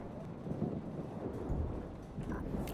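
A thunderstorm in the game Life is Strange rumbles low and steady, with rain and wind noise beneath a dull, sustained roll of thunder and no clear individual cracks.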